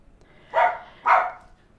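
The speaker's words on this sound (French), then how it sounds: "ça, excusez, c'est mon petit chien." A small dog gives two short, sharp barks about half a second apart, close and clear against a quiet room.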